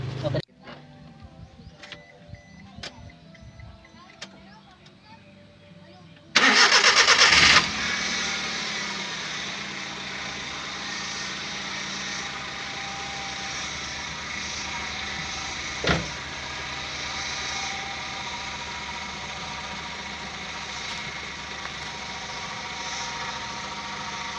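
A car engine cranks and catches with a brief loud surge, then settles into a steady idle that continues, with faint talk before it starts.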